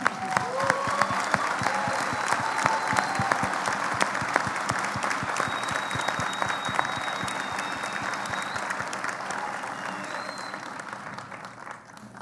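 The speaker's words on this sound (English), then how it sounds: "a round of applause for what you do" Sustained applause from a keynote audience at ILA18 for designer Rama Gheerawo, steady dense clapping with a few scattered whoops, slowly thinning toward the end.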